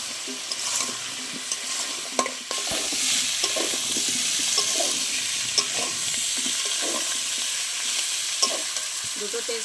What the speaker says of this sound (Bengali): ভালো করে ভেজে নেবো মশলার সাথে ওল আর আলু একসাথে।